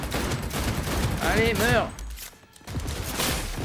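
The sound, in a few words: gunfire in the video game Cyberpunk 2077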